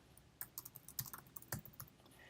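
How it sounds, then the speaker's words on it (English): A run of separate clicking keystrokes as an answer is typed on a computer keyboard, irregular and close, with a couple of heavier taps standing out, no talking. "I can start typing in my answer."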